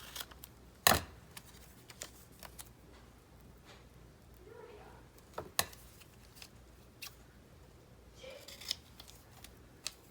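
Large scissors cut through a glossy magazine page for a collage, a few sharp, crisp snips spaced apart with soft paper rustling in a quiet room.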